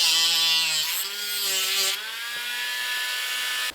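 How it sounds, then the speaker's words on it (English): A Dremel rotary tool cuts through a ski, a steady high whine with bright grinding hiss that shifts pitch slightly as the bit loads up, close and loud throughout. "I'll just take the Dremel and cut between here."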